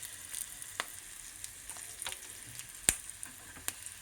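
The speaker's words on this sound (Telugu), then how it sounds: "ఇది తాళింపు పెట్టేస్తున్నాను" Tempering of black pepper, green chillies and asafoetida frying in hot oil for pongal, a soft steady sizzle with scattered sharp pops and crackles, fairly quiet and without voices.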